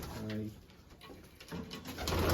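Pigeons cooing close by in low, rolling calls, with rustling and shuffling sounds around them.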